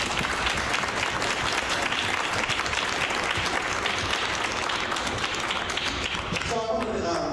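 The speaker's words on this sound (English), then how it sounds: "Let's give them another round of applause." A crowd applauds students and their sponsors at a school board meet-and-discuss session, with steady, dense clapping that holds for about seven seconds before thinning at the end.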